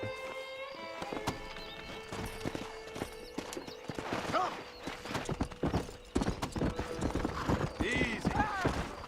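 Horse hooves clip-clop steadily in the video game Red Dead Redemption, with a horse neighing and other game sounds mixed in, while someone talks over it.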